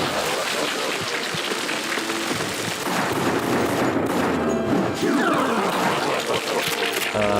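Dense, rapid gunfire from the shooter game Resident Evil: The Darkside Chronicles, loud overlapping bursts that crackle continuously from start to finish.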